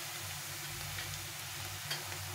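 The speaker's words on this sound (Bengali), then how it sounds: "ভালো করে একটু পেঁয়াজটাকে ভেজে নিতে হবে লাল লাল করে" Chopped onions sizzle in a hot pan while being stirred for a catla fish curry, a soft steady frying hiss with occasional light scraping clicks, fairly quiet and without talk.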